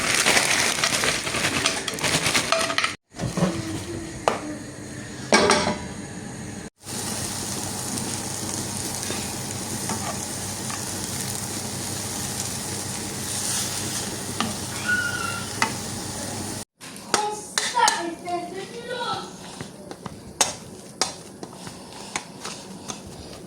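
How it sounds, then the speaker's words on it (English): Frozen vegetables stir-frying in a pan give a continuous close sizzle with stirring scrapes and a few clatters of utensil on pan, running for over twenty seconds with brief cuts between takes. "I'm just going to stir fry this."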